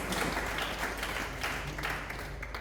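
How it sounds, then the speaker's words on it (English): Fairly faint, distant applause from an audience at a student conference after a panel discussion, a steady diffuse patter of clapping throughout with no voices. "Can you give a very big round of applause?"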